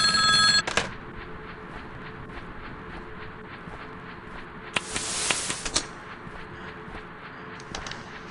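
A telephone rings in the Bear Haven horror video game: a shrill electronic ring bursts loudly at the start, then a second ringing burst returns a few seconds later over a quiet, hissy background.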